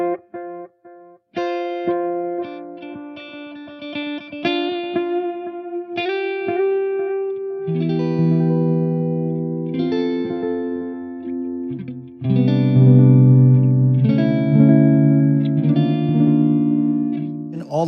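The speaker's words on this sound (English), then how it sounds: "On the far left, you'll have a very dark echo." Electric guitar played through a Way Huge Echo-Puss analog delay with its tone control set darkest, picked notes and chords trailing into muffled repeating echoes, loud and alone with short gaps.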